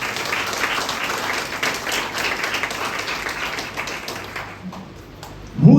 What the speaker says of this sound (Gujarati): એકવાર જોરદાર તાળીઓ થઈ જાય